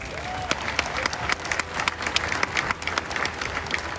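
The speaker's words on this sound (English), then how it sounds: "Please give a round of applause to Ms. Barbara Cunningham and Ms. Darlene Mo" A graduation crowd at Simon Gratz High School's Class of 2021 ceremony claps steadily, a dense, loud patter of many hands with a few sharper slaps standing out, continuing throughout with no speech over it.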